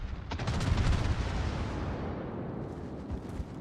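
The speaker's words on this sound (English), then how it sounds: "Both battleships firing at it." Heavy naval gun fire from battleships in World of Warships, a burst of deep booming shots at the start rolling into a low rumbling tail.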